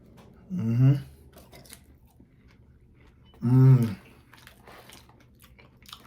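Someone chews seasoned crinkle fries from Dave's Hot Chicken close to the mic, with two distinct crunchy bite bursts separated by quiet pauses.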